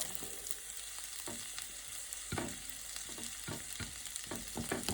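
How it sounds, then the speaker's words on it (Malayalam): Finely chopped onion fries in oil in a pan for palak paneer, giving a steady close sizzle broken by repeated scraping stirs of a spatula, with no talking. "നല്ലപോലെ അരിഞ്ഞ് വെച്ച സവാള അങ്ങോട്ട് ഇട്ട് കൊടുക്കുന്നുണ്ട്."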